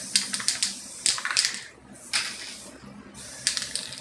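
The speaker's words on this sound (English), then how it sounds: "So I'm going to spray some teal to the side now." Teal spray paint hissing from a can in several short, sharp bursts of uneven length, close and fairly loud, with brief gaps between sprays.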